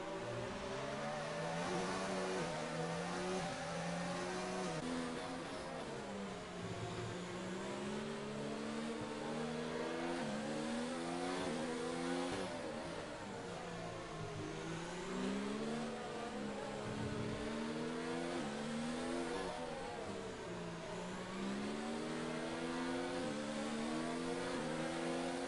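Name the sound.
race car engine revving glitch from a sim racing game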